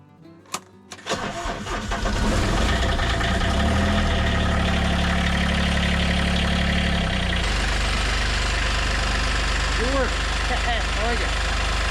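Snow-plowing tractor diesel engine cranking and catching, then settling into a loud, steady idle while warming up, close by, with a person talking over it.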